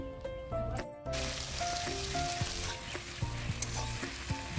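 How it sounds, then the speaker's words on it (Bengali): Spices mixed with chilli powder frying in a wok, a loud continuous sizzle with bright crackling pops and scraping stir strokes. A brief lull comes early before the hiss fills back in. "লঙ্কার গুঁড়ো সব মিশিয়ে কড়াইতে দিয়ে দেওয়া হয়েছে এবং এগুলো ভাজা হচ্ছে"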